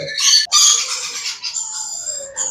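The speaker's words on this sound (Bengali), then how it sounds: "এই যে দেখেন আমার অ্যামাজন প্যারট মাশাল্লাহ অনেক সুন্দর" An Amazon parrot calling up close, loud harsh squawks and a drawn-out whistling cry in quick succession.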